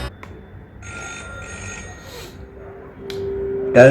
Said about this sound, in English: Typical telephone ring from 90s.